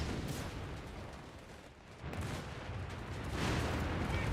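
Artillery fire in Company of Heroes 3, heard as a continuous dense rumble of booms and blasts that swells and dips, loud and close, with no voices over it.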